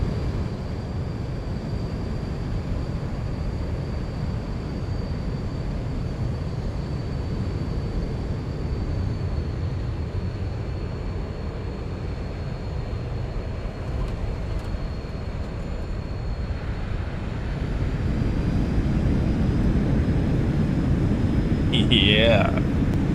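Airliner engines roar steadily on landing in X-Plane 12, a dense broadband rumble that swells louder near the end as thrust reversers engage, with a rising whine over the final seconds.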